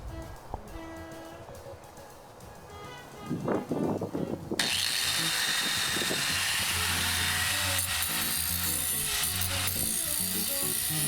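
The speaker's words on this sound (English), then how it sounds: "Now I'm just going to grind off the burrs and try to get a smooth edge." An angle grinder whines loud and continuous against the freshly cut edge of a steel Sanke keg, grinding off burrs after a few seconds of scraping and handling noises.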